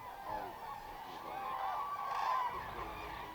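European cranes call at Lake Hornborga on frozen spring fields, their loud honking, trumpeting cries rising in a few overlapping bursts that swell toward the end, with a faint background of other birds.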